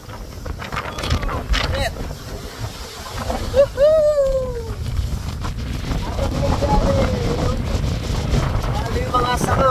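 Strong wind in Australia roars and buffets the microphone in a loud continuous rush, with gusts swelling toward the end and a voice briefly talking.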